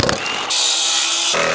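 A power saw bites through a 4x4 wooden post during a backyard playhouse build: a short rising whir and then a loud, harsh cut of about a second, close by and with no talk.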